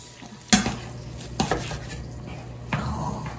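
Rice is stir-fried with braised short ribs and kimchi in a pan, a steady sizzle broken by sharp scrapes and clinks of a utensil against the pan at irregular moments, close up with no talking.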